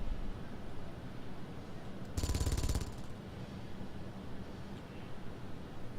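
A Gatling turret on a ship in Space Engineers fires one short, rapid rattling burst lasting under a second, standing out above a steady hissing background hum, with no talk during it.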